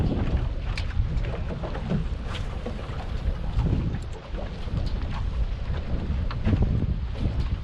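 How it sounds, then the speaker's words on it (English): Steady gusting wind buffets the microphone outdoors on Lake Lanier in winter, a constant low rumble with fluctuating bursts and no voices. "Yeah, that wind is blowing."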